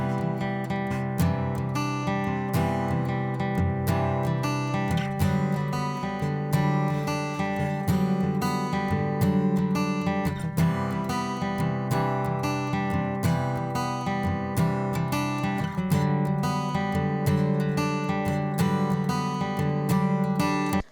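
Uncompressed finger-picked guitar track playing steadily and fairly loud throughout, full and dense with plucked notes and sustained harmonics, no talk over it.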